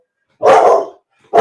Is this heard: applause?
no